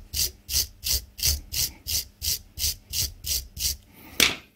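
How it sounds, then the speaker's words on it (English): Suzuki KingQuad front brake pads being filed smooth with a hand file: about eleven steady, evenly spaced rasping strokes, close and loud, ending with a sharper scrape. "get your file out and just file it nice and smooth"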